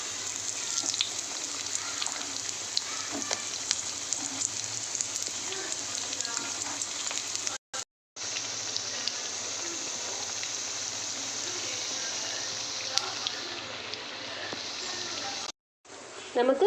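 Fish vadai sizzling in hot oil, a steady, fairly quiet crackle and hiss, broken by two brief gaps.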